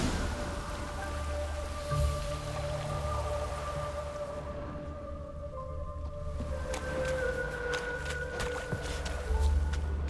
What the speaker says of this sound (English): Rains and rains.